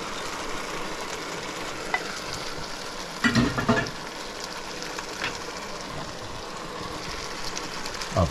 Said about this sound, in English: that's about the time we just put our herrings in